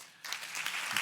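Applause for INEP staff at a Ministry of Education event, a burst of clapping that starts abruptly and continues steadily.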